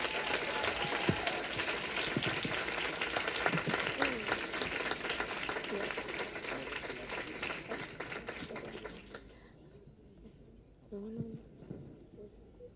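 An audience at an FAO awards ceremony applauds in a steady, dense wash of clapping that lasts several seconds and then fades out, followed by a brief spoken voice.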